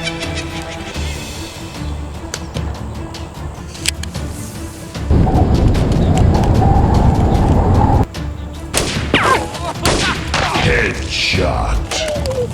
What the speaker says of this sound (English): Tao với mày tỉ thí súng.